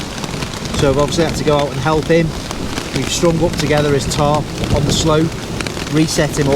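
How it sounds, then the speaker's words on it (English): Heavy rain pounds a tent pitched on a slope of the UK moors during a thunderstorm and flash flood, a dense continuous roar beneath a man's close, steady talk. "You can hear the strength of the rain"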